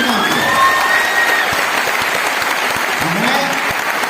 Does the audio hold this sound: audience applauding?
yes